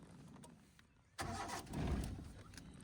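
Car engine cranks with the ignition key after the clutch is pressed, a sudden loud starter burst that catches and settles into a steady running rumble, heard close with no talk.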